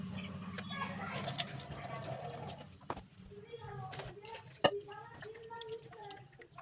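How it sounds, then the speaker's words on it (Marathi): Water sloshes and splashes in a vessel as rice grains are swirled and rinsed, with clinks and taps of a container and faint water trickling. "ते तांदूळ स्वच्छ दोन वेळा धुवून घेणार"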